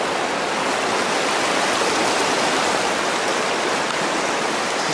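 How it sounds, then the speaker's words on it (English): Floodwater rushes through a swollen little creek in Kazabazua, Quebec, a steady, dense, close roar of churning water with no pauses or voices. "This is just a tiny little creek."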